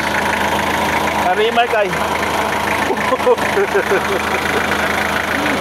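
Car engine revving briefly with its radiator cap off and a hose in view, a steady mid-pitched running sound with a light rise in revs, while someone talks over it throughout.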